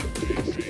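A male pouter pigeon coos while challenging a rival, making a series of low, throaty, rhythmic coos close by.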